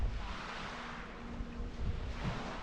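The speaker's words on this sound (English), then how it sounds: "Just listen to the sound of the little waves on the pebbles down there." Small waves wash over a pebble beach at Santa Ponsa, heard from above as a soft continuous surf hiss with gusts of wind noise buffeting the microphone and no talk.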